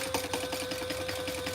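A sewing machine runs steadily while stitching up the sides of a wallet, a fast even mechanical rattle of needle strokes over a faint tonal motor hum, close and unbroken.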